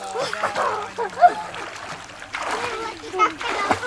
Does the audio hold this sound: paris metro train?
no